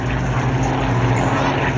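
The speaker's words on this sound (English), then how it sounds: "We have two Messerschmitt aeroplanes in the sky, a number of Spitfires and Hurricanes, and more to depart." Propeller engine drone from Messerschmitt and Spitfire aircraft flying at the Shoreham Airshow, a continuous loud rumble with no break.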